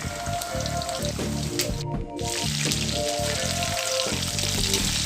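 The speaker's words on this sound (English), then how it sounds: "So I'm going to fry the drums separately and the flats separately so that they all cook evenly." Loud, continuous sizzling and crackling of chicken wing drumsticks deep frying in hot oil, with a brief dip in the noise partway through.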